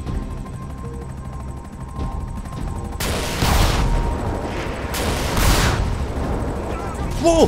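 A helicopter fires missiles in Grand Theft Auto V, with two heavy roaring blasts a couple of seconds apart rising over a low rumbling background, loud and close, with some talk mixed in.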